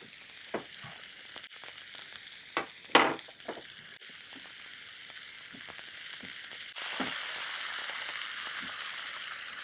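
Sliced onions roast with salt in a hot pan for a quick chapati sabji, giving a steady, close sizzle with scattered scrapes and taps from stirring and one sharp clank near the start. No one speaks.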